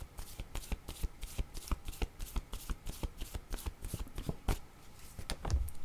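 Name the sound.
shuffling tarot cards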